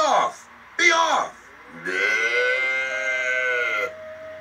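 A cow moos in a Thomas the Train cartoon episode, a long, loud, close bellowing low that follows two short voiced sounds, with nothing playing under it.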